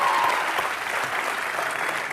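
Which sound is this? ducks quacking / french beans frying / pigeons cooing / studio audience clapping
studio audience clapping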